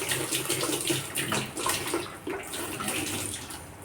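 Tap water pours steadily into a washing machine drum being cleaned with vinegar, a continuous close splashing rush with slight surges in level throughout.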